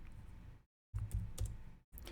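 A pastor's name is typed on a computer keyboard in church presentation software, with quick clusters of clicky keystrokes split by short silent pauses, close and alone.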